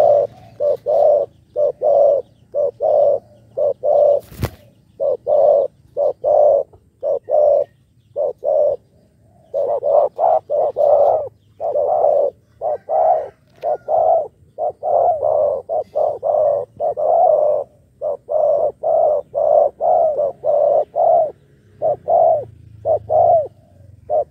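Pigeons or doves coo in a steady series of rounded, repeated calls, close and fairly loud, with only brief pauses between bursts and no voices.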